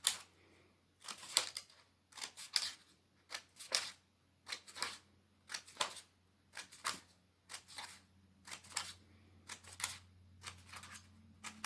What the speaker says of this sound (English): using the scissors, make little cuts.